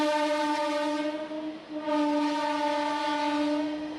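An Indian Railways train sounds a long, loud, sustained horn that dips briefly midway and then continues strong.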